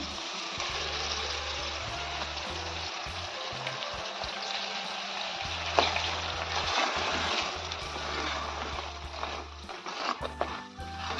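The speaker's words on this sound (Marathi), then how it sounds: "छान परतून घेऊया. पाच मिनिटं वाटण परतून घेतलेलं आहे मी." Masala paste for a spicy crab curry sautéing in a pan, a steady broadband sizzle running throughout, with a low hum underneath and occasional scrapes.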